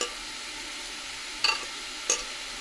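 Masala and mutton stir-fry in a pan, a quiet continuous sizzle running underneath, broken by two sharp metallic scrapes of a spatula partway through.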